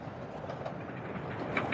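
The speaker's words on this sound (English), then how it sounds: "There's so many trains in my shot." Trains rolling along the tracks at Forest Hills, a soft, steady rumble of wheels with faint clicks, heard from a distance and fairly quiet throughout.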